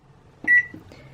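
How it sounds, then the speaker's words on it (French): A microwave oven set to convection mode gives a single short, clear electronic beep, close and alone, followed by a couple of faint clicks in a quiet kitchen. "Alors moi c'est un four micro-ondes"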